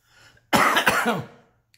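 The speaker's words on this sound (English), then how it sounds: "Sorry, I have a cough." A single close, harsh cough bursts out in a quick couple of hacks after a faint breath, then silence.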